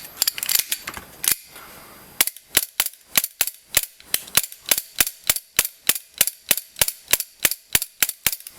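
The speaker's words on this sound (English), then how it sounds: "I'm just going to do a test fire of the gun" A Tokyo Marui G17 airsoft gas pistol fires a long run of sharp, evenly spaced shots, close and loud, after a few quicker cracks at the start.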